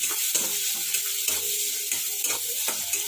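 Onions fry with a pinch of salt in a home kitchen, a close steady sizzle broken by repeated scraping and stirring strokes of a spatula in the pan.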